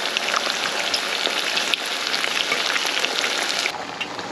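Tofu fries in a hot pan with dense, continuous crackling and spitting sizzle, close and fairly loud and alone, with no talking.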